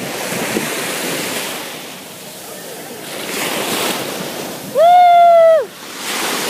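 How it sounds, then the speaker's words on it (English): Sea waves break and wash continuously on a beach, with gusty wind noise over the surf and a loud warbling tone partway through. "The awesome sea."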